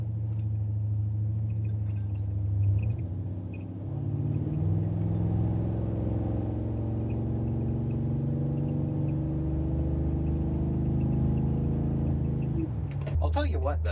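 A car with a 1960s transmission is driven hard, its engine droning and shifting pitch under load with a steady rumble, then dropping off near the end; some brief speech and noise come in at the close.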